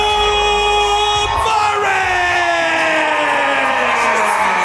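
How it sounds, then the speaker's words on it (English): A wrestling crowd cheers, yells and whoops loudly as tag team champions make their entrance to the ring. The roar is dense and continuous, with a gliding tone sweeping downward through it. "Boy, this crowd loves some OMGs, that's for sure."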